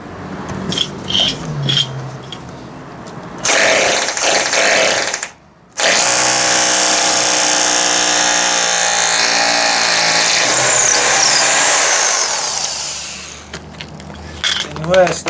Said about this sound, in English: just your standard little hammer drill, so see what we can do